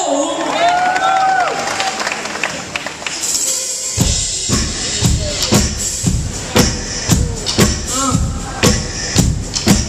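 A lively concert crowd cheers and shouts, then settles into rhythmic clapping along to a song, with steady, evenly spaced claps over a murmuring audience.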